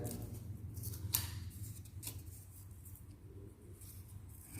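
Scissors snip through paper to cut out legs for a children's craft, producing a couple of faint, brief, close snips over a quiet room hum.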